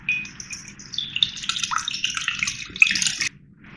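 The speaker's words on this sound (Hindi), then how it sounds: "ये एक बाउल में मैंने बर्फ़ लिया है और इसमें ठंडा पानी डाल रही हूँ।" Cold water poured into a bowl of ice while making rasgulla, a bright splashing gush with trickles and clinks for about three seconds before stopping abruptly.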